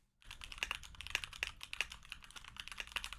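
Quick, clicky keystrokes on a computer keyboard patter in an irregular rhythm for a few seconds, close and fairly quiet, with no voices.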